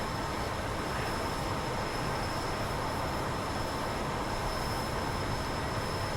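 Train rolling past in the flight game DCS World over the Caucasus, a constant broadband rumble of wheels on rails, loud and even, with no voices.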